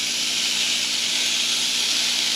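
Pork roll slices sizzle in a small preheated frying pan, a steady, close, bright hiss throughout with no talk.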